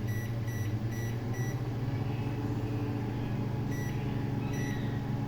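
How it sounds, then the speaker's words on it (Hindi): A microwave oven is being set to four minutes for a homemade red velvet cake, giving two clusters of short, sharp beeps over a steady low hum of the kitchen. "ये दिए हमारा केक गया माइक्रोवेव में। यहाँ से हम 4 मिनट सेट कर देते हैं।"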